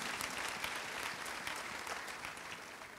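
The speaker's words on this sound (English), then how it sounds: "Let us clap for Lord Jesus Christ." Sunday church congregation clapping in praise, a full, steady wash of many hands, fairly distant and uniform, with no talk over it.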